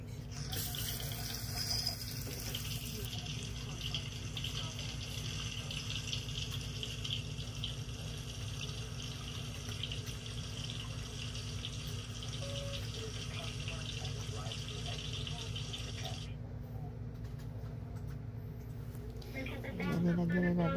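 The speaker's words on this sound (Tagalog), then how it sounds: "Nilagyan na natin siya ng tubig." Water runs steadily from a kitchen tap for cooking a saluyot and shrimp dish, a continuous broadband hiss that stops near the end, with a voice talking over it.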